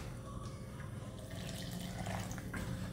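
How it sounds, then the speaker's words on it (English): A small stream of water pours into powdered drink mix, a close, steady running trickle over low background hum, with no one speaking. "all I have to do is mix it with a little bit of water."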